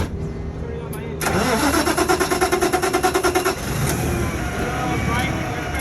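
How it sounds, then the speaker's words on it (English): A car engine is started with a key: a starter cranks in a rapid, even rhythm for about two seconds, then the engine catches and settles into a steady idle close by. Speech is present. "inserting my key, turning on my engine"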